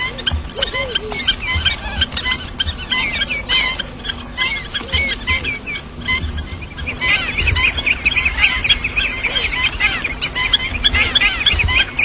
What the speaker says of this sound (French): Cette hirondelle est comme une sentinelle. Et dès que s'approche un étranger, elle piaille